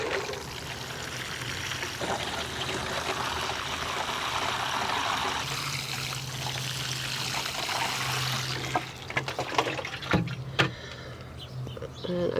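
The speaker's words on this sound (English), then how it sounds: "I'm going to water these all in really well" Water pours and streams steadily from a hose or can onto freshly planted broccoli, cauliflower and cabbage in a vegetable garden, a continuous close splashing that thins out near the end.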